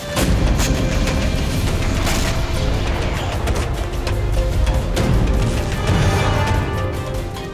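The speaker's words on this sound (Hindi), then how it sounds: "अब यूक्रेन की सेना रूस के इन्हीं सैन्य ठिकानों पर बम बरसाकर इसे खाली करवाने में जुटी हुई है।" Heavy bombardment and artillery fire on Russian military positions near Kharkiv in the Ukraine war produce loud, dense rumbling booms and continuous blasts, with no voices.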